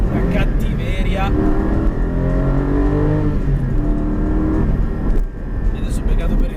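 A Porsche 718 Cayman GT4 flat-six revs hard toward 8000 rpm on the road, a loud, rising engine note close to the car, with a voice talking over part of it.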